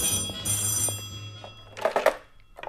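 An old telephone bell rings in trilling bursts at moderate loudness, then a clatter as the receiver is handled.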